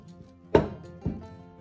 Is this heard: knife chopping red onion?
yes